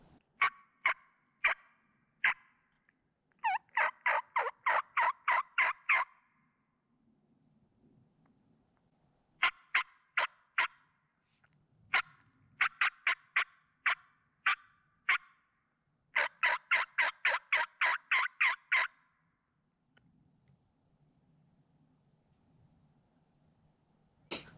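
A raspy mountain wild turkey hen gobbles and yelps in raspy bursts, repeated series of sharp calls separated by short pauses, fairly close and loud against a quiet background.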